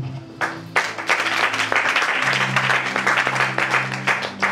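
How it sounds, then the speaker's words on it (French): A church congregation bursts into sustained applause and clapping during a French-language Bible teaching on Exodus, a dense, steady wash of many hands over a low held organ or keyboard tone, with a few voices mixed in. "Acclame Jésus"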